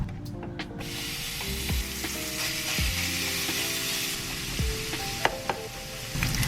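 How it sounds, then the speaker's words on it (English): Pork bacon fries in a pan with no oil, giving a steady close sizzle and crackle throughout, with a few light scrapes and clinks as it is stirred. "The first thing we wanna cook is our bacon."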